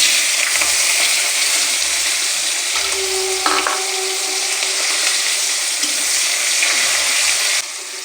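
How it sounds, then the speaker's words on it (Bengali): Chopped onion fries in a pan for a Bengali chicken curry, giving a loud, steady hiss and sizzle throughout, with a few brief low thumps and one short clink partway through. "এখন দিয়ে দেবো পেঁয়াজ কুচি"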